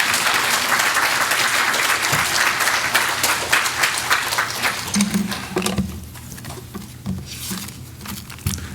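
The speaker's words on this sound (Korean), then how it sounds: "우리 목사님 나오실 때 크게 화답하며 박수로 축복하겠습니다." A church congregation applauds as their pastor comes forward to preach, a dense, steady clapping that fills the room before thinning out toward the end, with some low rumble and scattered claps.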